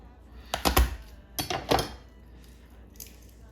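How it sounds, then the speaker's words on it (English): Garlic cloves from one head are crushed to loosen the skins, two clusters of sharp cracking thumps close by on a hard surface, followed by quieter rustling. "So I'm using 1 head of garlic. Just peeling it by crushing it."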